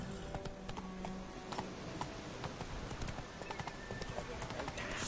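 Horse hooves clip-clop steadily in The Witcher 3 as the horse trots along, soft and quick, with a voice speaking over the hoofbeats.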